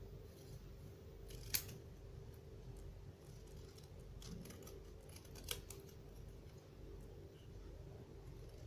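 Scissors snip through paper, cutting a decorative designer shape for a homemade birthday pop-up greeting card; two sharp cuts stand out over quiet room hiss, with no talking.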